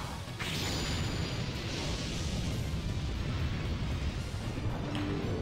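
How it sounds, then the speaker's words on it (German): An explosion attack lands in The Legend of Dragoon on PlayStation 1, a loud, sustained roaring blast that starts with a sharp onset and rumbles steadily throughout, with a faint ringing tone early on. "So, Dart macht nochmal einen Explosionsangriff."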